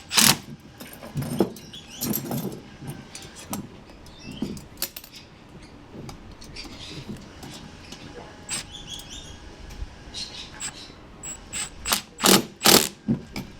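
An 8mm socket on a ratchet tightens a fire extinguisher mounting bracket on a Ford Ranger tub, giving bursts of quick clicking with pauses between them and a louder flurry near the end.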